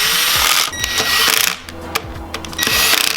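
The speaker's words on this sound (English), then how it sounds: "Let's at least start by putting these bolts in so it doesn't go anywhere." Short metallic clicks, rattles and brief whirring bursts come from tools as bolts go in while mounting a motor during an engine swap, close and intermittent, with no talking.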